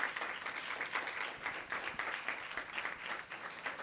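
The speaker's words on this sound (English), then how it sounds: "can we give Cheryl a big round of applause?" An audience gives a presenter at a career-prep workshop a round of applause, dense clapping that holds steady for several seconds.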